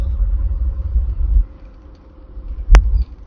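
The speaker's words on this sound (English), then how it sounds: "I really hope you can hear this engine." A Triumph Stag V8 with a ZF gearbox drives at around 60 mph, its steady deep rumble close and loud, and a single sharp click cuts through near the end.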